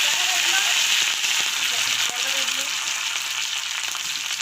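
Fenugreek seeds, curry leaves and other tempering spices crackle in hot oil, a bright continuous sizzle with small pops, close and steady, with faint talk in the background.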